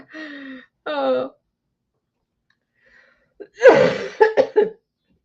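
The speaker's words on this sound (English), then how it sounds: "I can't seem to get rid of that cough and these sinuses" A person with a lingering cough and sinus trouble coughs several times, with a couple of short hacking bursts, then a cluster of harsher coughs and throat sounds after a brief silence.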